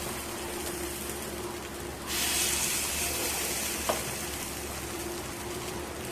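Fasting-style appe batter fries in an appe pan with a steady close hiss that swells louder partway through as more spoonfuls are added, plus a faint tap of a spoon.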